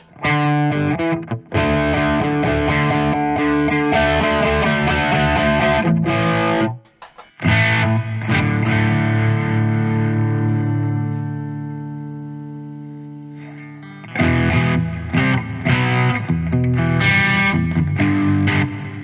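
Distorted electric guitar chords and sustained notes with a shimmering, doubled ensemble effect from a Zoom G1Xon pedal, strummed in bursts with a short pause and a long ringing chord.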